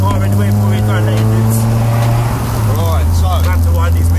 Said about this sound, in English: We've got an exhaust pump at the back making a lot of noise.